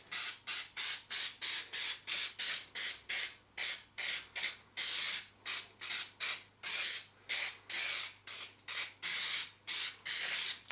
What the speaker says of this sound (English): I'll just spray that on there.